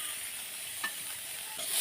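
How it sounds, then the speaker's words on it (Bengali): Garlic and green chili frying in a pan with chopped onion for a village-style Bengali long bean and chhana dish, a quiet continuous sizzle with one faint clink midway and a slight swell near the end. "এখন এটা আমি লাল লাল করে ভেজে নেব"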